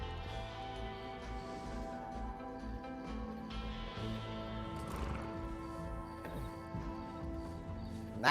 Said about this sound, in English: Maximus is a little jealous because he thinks he's working hard to be the greatest horse of all time